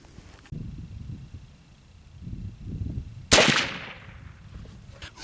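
A single sharp report from a .36 caliber muzzleloader rifle firing outdoors, loud and close with a decaying ring, preceded by quiet background rustle.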